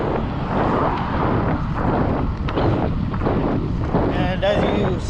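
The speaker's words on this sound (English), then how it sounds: "A bit of a headwind." Steady wind noise roars across the microphone during a morning bike ride to work into a light headwind, a continuous broadband rush that never lets up, with no talking.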